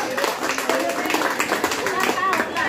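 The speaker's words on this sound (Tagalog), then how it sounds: "Ato sa mahatagan sa masibang palakpak." Enthusiastic applause at a 7th anniversary gathering of a fraternal guardians group, with a crowd clapping in a dense, lively patter, near and steady with voices mixed in.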